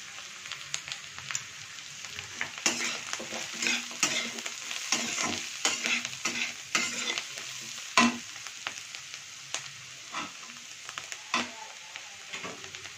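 Vegetables for veg chowmein frying lightly in a pan, with steady sizzling and repeated scraping stirs from a utensil throughout, close and moderately loud with no talking.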